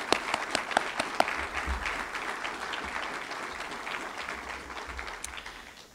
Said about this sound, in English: And you all get a big round of applause today.